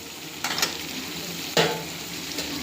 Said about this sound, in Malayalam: ഇനി ഇതൊന്ന് നന്നായിട്ട് ഇളക്കുക.